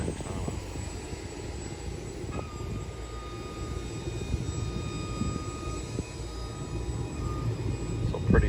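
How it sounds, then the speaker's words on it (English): Turbine engines on a Chinook helicopter spin up in a steady, rumbling roar with a thin high whine above it, constant and fairly loud throughout, with faint outdoor noise behind. "Now they're firing up a turbine"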